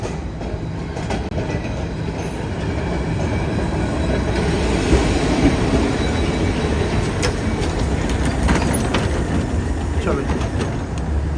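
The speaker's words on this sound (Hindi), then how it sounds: "फाइनली ट्राम के स्टॉप पे पहुंच गया हूँ जी" A tram pulls into a stop in Milan with a loud, steady rolling rumble and faint rail squeals that build slightly, while a voice speaks over it.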